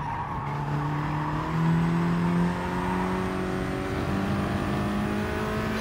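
A race car engine in Gran Turismo Sport holds a steady, sustained drone on fresh medium tyres during a first lap, the pitch climbing slightly, loud and close with no speech over it.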